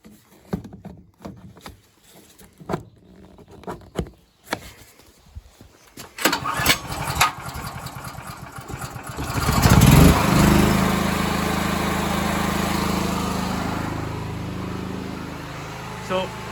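Portable generator used during a storm power outage, pulled to start after a series of rattling attempts, then roaring up and settling into a steady, loud running drone as someone talks.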